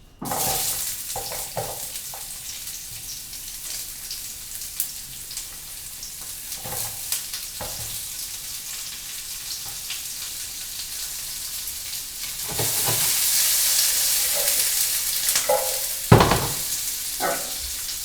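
Chopped onions fry in a hot pan with a steady, broadband sizzle throughout. Utensil clatter and scraping occur now and then, and the frying grows louder in the later seconds as the onions cook, with no talking.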